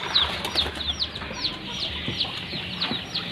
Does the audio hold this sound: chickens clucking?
yes